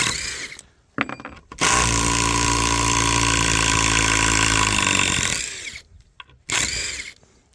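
A power drill drives a self-tapping screw into dry elm, its motor starting with a couple of short blips, then whirring loud and steady for about four seconds, followed by another brief burst.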